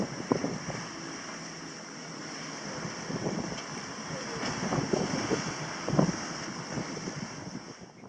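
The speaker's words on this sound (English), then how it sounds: "The wind changed from 8 to 18 knots." Wind rushing past a sailboat at sea, a steady broad roar with gusty buffeting against the microphone and occasional louder swells of wind and water, no talking.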